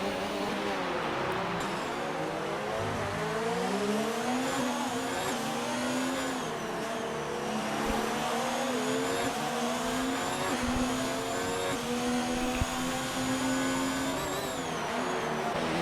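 Race cars in a sim racing league event at the Singapore street circuit, several engines droning and rising and falling in pitch as cars close on one another, a steady continuous roar throughout.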